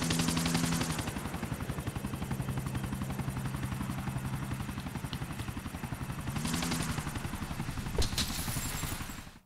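Helicopter flying in GTA 4 The Ballad of Gay Tony, a loud steady rotor thump with a whining engine drone throughout, broken by a sharp crack near the end.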